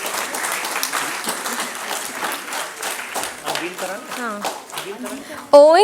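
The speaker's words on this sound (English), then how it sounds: "Can I have a round of applause for the winners" A conference audience claps for best paper award winners, with sustained applause that thins toward the end as a voice begins speaking over it and a brief tonal sound cuts in.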